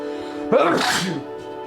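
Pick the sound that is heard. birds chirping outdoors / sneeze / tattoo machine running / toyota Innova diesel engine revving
sneeze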